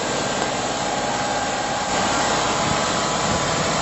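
Steady, loud tractor engine running in a farm field throughout, a broad continuous rumble with no pauses.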